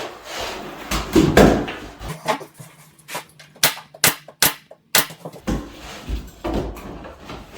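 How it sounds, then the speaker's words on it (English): A nail gun drives a quick series of sharp, separate shots into MDF window trim, some landing close together and others spaced apart, each one a loud, snappy crack with short quiet gaps between and no talking. "So I angle my nails when I shoot, or I'll stagger them a little bit too."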